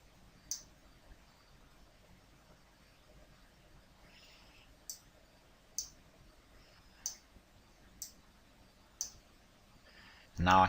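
A computer mouse clicks on a generate button in crossword-making software, giving several crisp, isolated clicks spaced a second or so apart against a quiet room, ending with a brief louder burst.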